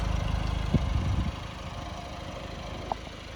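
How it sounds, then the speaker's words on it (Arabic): A 2017 Ford Fiesta Trend Plus engine idles, a low, steady rumble with a brief heavier pulse near the start before settling into a quieter, even hum. "سمعت ضربة الموتور الإخوان شعل الموتور ساكت"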